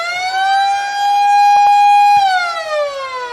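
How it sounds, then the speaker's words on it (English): A loud, sustained quarter-time siren wails at a senior men's Australian football grand final in Mackay, holding a steady tone before sliding down in pitch, with no talk over it. "There's the siren, Gary."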